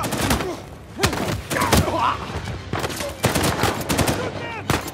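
Gunfire from the Uncharted 4 video game crackles in quick bursts and single sharp shots, loud and close, with brief shouts and grunts mixed between the volleys.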